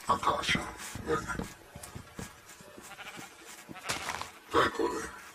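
Sheep bleating in the Minecraft 1.8.0 video game, several short wavering cries near the start and again near the end, while someone talks over them.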